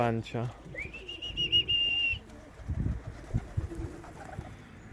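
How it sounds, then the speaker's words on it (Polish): A female pigeon in a loft gives low, close cooing murmurs, while a thin high whistle sounds at the start and someone talks quietly nearby. "O, samica gruka, zobaczcie."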